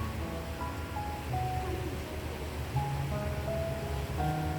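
Evening surf washing along the seashore at Waterfall Bay near Wah Fu Estate, a steady broadband wash at moderate level with faint scattered bird calls and tones over it, continuous throughout.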